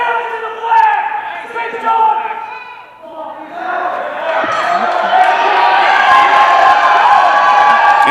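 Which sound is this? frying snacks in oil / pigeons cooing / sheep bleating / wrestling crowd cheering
wrestling crowd cheering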